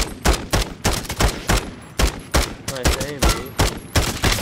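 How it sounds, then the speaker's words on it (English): Rapid bursts of automatic gunfire in Call of Duty Warzone, loud and close, with sharp repeated shots in quick rhythm while players talk over them. "I'm getting shot at."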